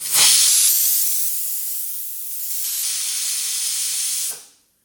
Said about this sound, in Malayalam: ഇതാ തീ കൂട്ടി വെച്ച് ഒറ്റ വിസിലായിട്ടുണ്ട്.